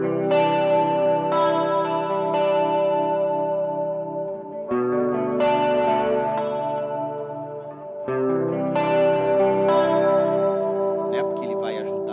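Electric guitar played through a Boss CE-2 chorus pedal set for a detune effect, with sustained chords and arpeggiated notes shimmering in three loud phrases, each ringing out before the next begins.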